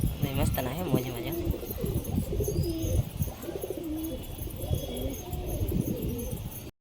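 Several pigeons coo in rhythmic, rolling calls close by on a rooftop, with a person talking over the birds for much of the time.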